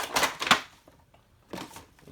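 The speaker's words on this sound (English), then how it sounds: "I can just rip it open like the first" Cardboard packaging of a Pathfinder Battles miniature box being ripped open, two sharp tearing bursts close up separated by a short quiet gap.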